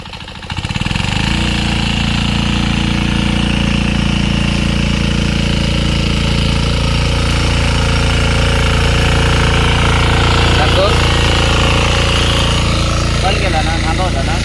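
A loud, steady tractor engine drones throughout at close range while ploughing a rice field, with a low chugging rumble and faint voices underneath.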